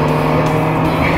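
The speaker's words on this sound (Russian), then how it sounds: "Уехала его машина прям как от стоячего" A Toyota Chaser with a naturally aspirated 2.5-litre JZ engine pulls away hard, its engine a loud, steady, close roar with a tonal drone throughout.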